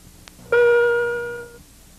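A single chime tone from the passenger address amplifier of a Boeing 767 airliner, clear and ringing, decaying over about a second, preceded by a faint click.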